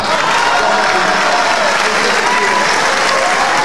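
Sustained applause fills the chamber of Peru's Congress during the election of its board president, a dense, loud, even clapping from many hands that continues throughout.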